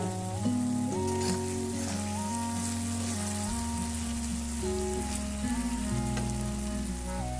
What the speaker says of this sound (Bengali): দেখুন আমার এটা খুব সুন্দর করে ভাজা হয়ে গিয়েছে।